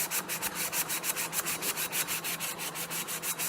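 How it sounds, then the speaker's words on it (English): Coarse 36-grit sanding foam scratching along a hand-forged pata sword blade, a steady rhythmic back-and-forth rasp of roughly fifteen quick strokes, close and alone with no talk. "we'll start with a 36 grit sanding foam thing and just start"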